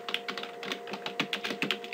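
Keys on a computer keyboard clicking in quick, uneven taps over two seconds, close and moderately soft, with no voices.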